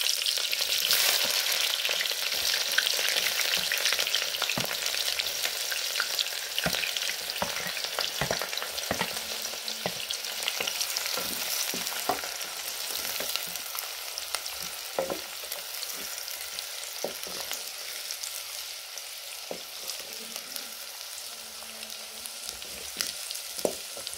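Onions fry in hot cooking oil for salt fish, with a dense, even sizzle and frequent sharp crackles and pops. The sound stays close and steady throughout, with no talking.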